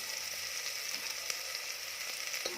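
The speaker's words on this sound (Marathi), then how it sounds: "तेल छान गरम झालं की त्यामध्ये बारीक चिरलेला कांदा घालायचा आहे कांदा छान परतवून घ्यायचा आहे" Finely chopped onion fries in hot oil, a steady, close hiss of sizzling with a few faint clicks, and no talking.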